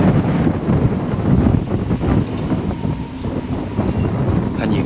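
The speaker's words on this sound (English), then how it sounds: "Check out the sound of the wind. I think going through the masts or the cables." Wind blows steadily and loudly across a cruise ship's masts and cables, with a continuous rushing roar and faint whistling tones that rise and fall, and no talking.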